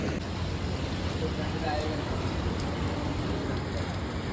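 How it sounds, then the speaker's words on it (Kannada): Steady rain falls at Anjuna Beach in Goa, a dense, even hiss of drops with a low rumble underneath, continuous and fairly close throughout. "ಆದರೆ ಮಳೆ ಬರ್ತಾ ಇದೆ ಗುರು."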